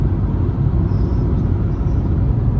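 A Fiat Egea 1.3 driving fast on a motorway near İzmir, a loud steady low road rumble and engine drone from inside the car, constant throughout with no talking.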